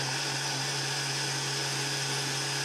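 A blender whirs continuously as it purees grapes with water for a homemade drink, a steady, even motor drone with a strong low hum and no breaks.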